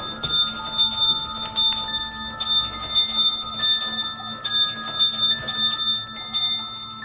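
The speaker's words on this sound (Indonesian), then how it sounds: "dia lihat bel kamar suite pengantin berbunyi sendiri" A bridal suite room bell in a film rings by itself, loud bright clanging strokes repeating in clusters with a lingering ring, no voices.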